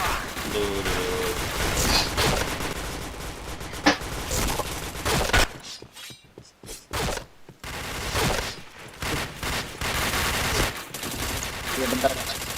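Rapid bursts of gunfire crackle through an online multiplayer shooter match, loud and dense, with brief pauses between volleys and players talking over the shots.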